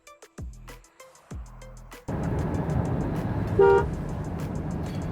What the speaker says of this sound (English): I didn't mean to press the horn right now.